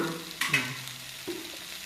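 Curry leaves sautéing in a pan for karuvepillai chutney, a soft, close sizzle with a few brief stirring scrapes and taps.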